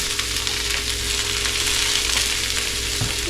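Fajita meat and vegetables sizzle steadily in a hot pan, a loud, even hiss of frying that runs unbroken throughout with no talk.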